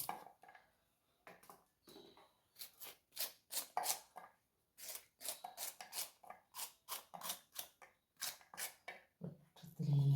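Okra sliced into rounds on a cutting board, a quick series of crisp knife chops arriving in bursts with short pauses between. Close and fairly quiet, with no voice over it.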